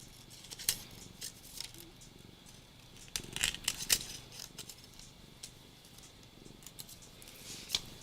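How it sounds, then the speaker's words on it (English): Scissors cut paper in a series of crisp snips at an irregular rhythm, close and moderately loud, while a cat purrs softly underneath. "You want to turn the paper and not the scissors."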